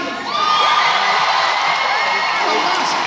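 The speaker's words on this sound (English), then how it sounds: "If Emma is your karaoke queen, scream now" A live audience at a sing-along show in Nottingham screams and cheers loudly for a karaoke contestant, a dense crowd roar with whoops and high shrieks that holds steady throughout.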